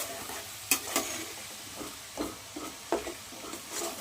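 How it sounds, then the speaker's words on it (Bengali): Onions frying in a pan for a dahi katla fish curry, with a steady soft sizzle broken by a few sharp scrapes and stirs from a utensil, close by and moderately quiet, with no talking. "বন্ধুরা দেখুন ভালো করে পেঁয়াজটা লাল লাল করে"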